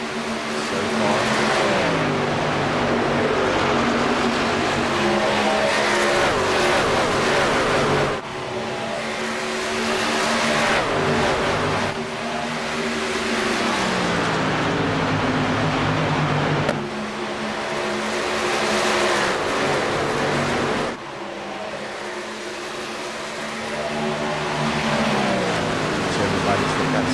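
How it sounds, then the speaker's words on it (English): Race cars lap a track in a contender series, engines droning loud and steady and pitching up and down as they accelerate and pass, heard under a continuous announcer's commentary. "Jimmy Babb in the class of the field with the fastest lap so far."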